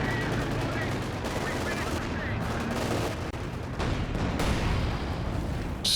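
Heavy, continuous barrage of rocket artillery fire from Land Mattress launchers in the strategy game Company of Heroes 2, loud rumbling blasts and crackling gunfire layered without pause, during a 2v2 match.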